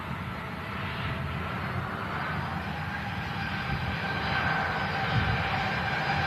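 A jet airliner, just arrived from Budapest, taxiing past at Manchester Airport: a steady, fairly loud engine roar and whine that holds level and builds slightly toward the end, with no talking.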